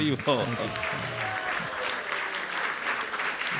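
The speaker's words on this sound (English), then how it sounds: "Give a big round of applause" Audience applause at a Hare Krishna gathering rises as a voice finishes speaking, then continues as a steady, moderately loud wash of clapping.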